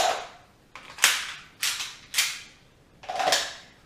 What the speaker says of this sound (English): The magazine comes out super quick.